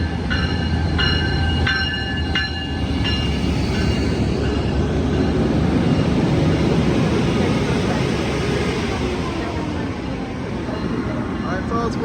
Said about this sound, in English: this is Amtrak 713 San Joaquin bound train departing Emeryville station